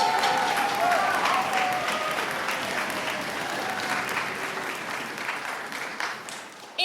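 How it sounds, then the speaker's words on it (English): Audience applause at a last-day student music camp concert, steady dense clapping from a large crowd filling the whole stretch, loud and sustained, fading slightly toward the end. "let's give them a big round of applause."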